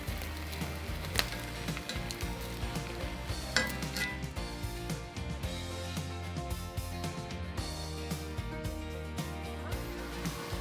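Garden peppers charring in a hot pan, with a steady sizzle running throughout alongside clinks and scrapes of a utensil against the pan and a soft dense hiss filling the background.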